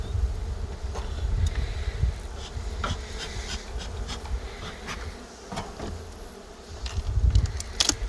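Close, continuous humming of honey bees at a springtime hive entrance in eastern Poland, foragers arriving laden with pollen; individual insects zip past the microphone in brief louder swells over the busy colony drone.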